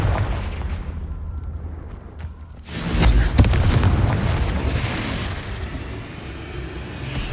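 A Confringo blasting spell in the video game Hogwarts Legacy bursts into a loud, deep, rumbling explosion that erupts suddenly mid-clip, then rolls and crackles before slowly fading into a lingering low roar.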